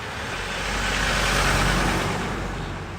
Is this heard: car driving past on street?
yes